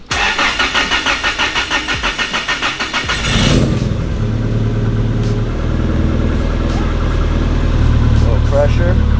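A car with a Toyota 3SGE engine cranks with a rapid rhythmic churn for about three seconds, then catches and settles into a loud, steady idle close by.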